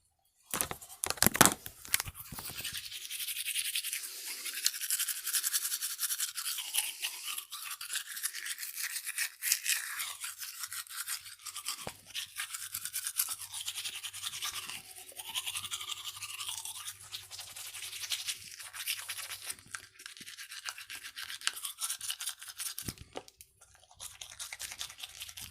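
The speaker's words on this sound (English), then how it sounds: "I still brush my gums, just like I did whenever I had my teeth still." A toothbrush scrubs bare gums up close with rapid, bristly scratching strokes that run almost continuously, broken by a few short pauses and faint wet sounds.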